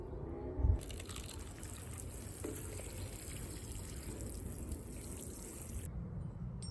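Water poured into a large plant pot of soil mixed with bone meal, ready for tomato planting; a soft, steady trickle and splash runs for several seconds after a brief knock at the start.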